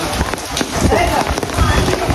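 Heavy rain pours at night during a temple visit in Navratri, a dense, steady hiss of drops on surfaces close by, with people talking over it.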